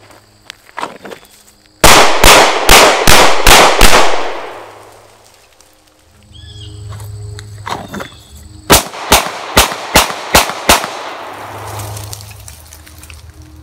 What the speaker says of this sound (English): all of those shots are staying center chest